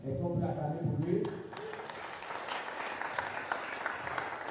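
A church congregation breaks into sustained applause during a sermon. A voice is heard briefly before a dense wash of clapping fills the rest of the moment.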